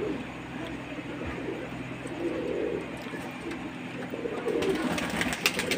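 Rampuri and Indian Lakha pigeons in Lahore coo softly nearby, with low, rolling calls that rise and fall against a steady background hum.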